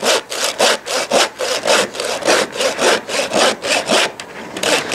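A hand saw is cutting through a game animal's carcass in steady rhythmic back-and-forth strokes, about three per second, rasping and close, with no talking over it.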